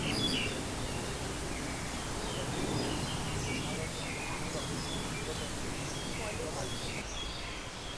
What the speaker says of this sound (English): I'm not making those bird sounds up, those are actually the birds.